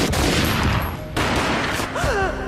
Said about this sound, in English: A gunshot boomed